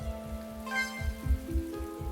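Rain falls steadily in a video game, a soft, even patter at moderate volume with a faint tonal background layer and low rhythmic thuds underneath.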